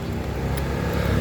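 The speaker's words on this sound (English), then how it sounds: "I apologise for the noise. This is Thailand and traffic is everywhere" Street traffic in Chiang Mai, Thailand, surrounds the listener as a close, continuous rumble of engines, with a brief brighter burst midway like a passing vehicle.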